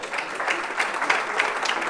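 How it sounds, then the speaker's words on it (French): Brief burst of audience applause after a student presentation, steady clapping from a small seated group filling the short stretch at moderate loudness. "Vous pouvez l'applaudir."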